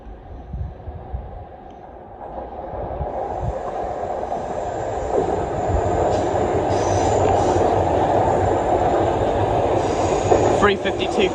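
A British Rail Class 350 electric multiple unit passing, its rumble and hum swelling steadily from quiet to a loud sustained roar with faint rail clicks near the end, while someone talks over it.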